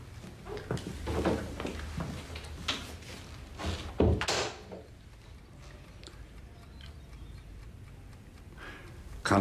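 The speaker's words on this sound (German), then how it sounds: "Soll ich die Tür zumachen?" A door is pushed shut indoors with a firm thud and latch click partway through, following some shuffling and handling noises, then quiet room tone.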